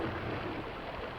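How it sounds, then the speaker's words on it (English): Storm ambience in Donkey Kong 64: a steady, dense wash of heavy rain with low rumbling underneath, constant and fairly soft, with no voices. "The only thing you're given is the atmosphere of this storm."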